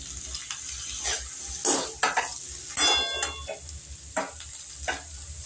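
Potatoes and green peas frying in a pan in a village-style kitchen, with a steady sizzle under repeated scraping stirs of a spatula against the metal, close and moderately loud.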